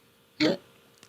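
One short, close cough comes from a person indoors in an otherwise quiet room, followed by a faint click.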